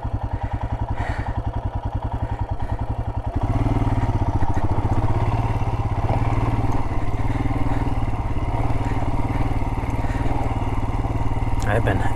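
A motorcycle engine chugs and revs at low speed over a rough canyon jeep trail, a loud rhythmic thrum close by that grows fuller after a few seconds as the throttle opens.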